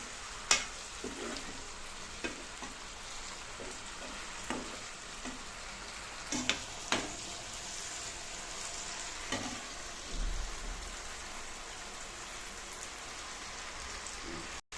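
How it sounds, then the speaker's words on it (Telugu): Soft cooked tomatoes are mashed with a spoon into gravy in a sizzling pan, with a steady frying hiss and scattered spoon taps and scrapes. "మెత్తగా ఉడికాయి కదా టమాటాలు ఈ స్పూన్తోనే ఇలా అన్ని అనేస్తే చక్కగా గ్రేవీ లాగా వచ్చేసి"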